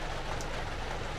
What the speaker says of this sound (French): Et il pleut, donc voilà.